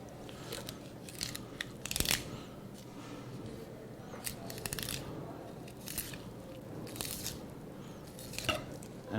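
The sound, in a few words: knife cutting halibut flesh along the bones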